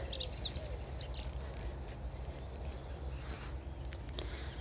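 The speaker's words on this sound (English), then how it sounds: "That's the moorhen just calling out." A moorhen calls outdoors along the River Welland at Deeping St James, a few high chirping notes near the start and another brief call later, over a steady low rumble of ambient noise.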